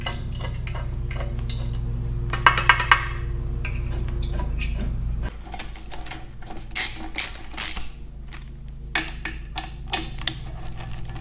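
Hand ratchet tightening cover bolts on the belly pump of a Farmall tractor, giving rapid clicking bursts and metallic taps close by, over a steady low hum that cuts out halfway through.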